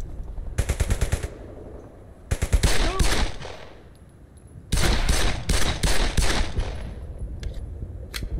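Automatic weapon fire in the Brothers in Arms video game: three loud, rapid bursts of gunfire separated by short pauses, each rattling stream sharp and close.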